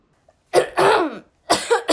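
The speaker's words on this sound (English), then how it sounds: "Your cough is bad." Several harsh, hacking coughs from a stage actor in a live theatre performance of Tartuffe, heard close and loud in two bursts separated by a brief pause.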